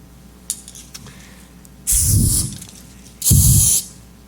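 Aerosol spray hisses in two sharp bursts, each about half a second, loud and close, with a few faint clicks before the first burst.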